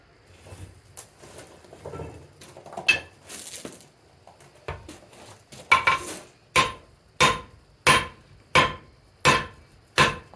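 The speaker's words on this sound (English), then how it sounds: "I wish I had my heavier hammer for this, but it works." After some quieter clatter, a blacksmith's hammer strikes hot metal in a steady rhythm while forging tools, about eight sharp ringing blows evenly spaced.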